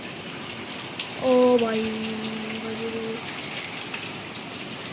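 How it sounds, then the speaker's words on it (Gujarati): Heavy rain pours outside in a steady, dense hiss that runs through the whole stretch, with a man's brief call rising over it near the start. "બહુ વરસાદ ચાલુ થયો છે જબ્બર. તમને બરાબર દેખાઈ નહીં રહ્યો પણ બહુ જબરદસ્ત પડી રહ્યો છે."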